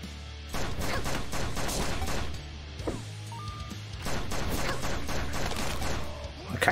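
Rapid bursts of AK rifle fire in the action video game AK-xolotl, with repeated sharp cracking shots forming a loud continuous barrage, punctuated by game effects and a brief lull midway.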